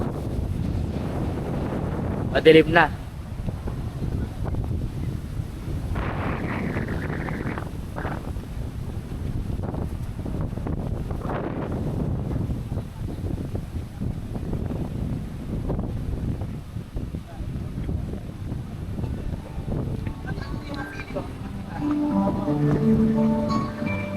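Strong wind buffets the microphone in a continuous roar throughout at a beach campsite in Dingalan, Aurora, with a brief spoken phrase and faint background sounds near the end.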